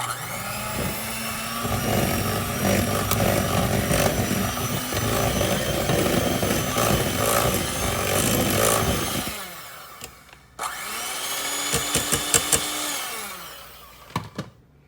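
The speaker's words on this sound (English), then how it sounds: "And now we're going to give it a mix." A motorized mixer whirs loudly and steadily while blending an apple jack pudding salad, the pitch shifting as the beaters work through the mixture, then a brief pause before the motor starts up again.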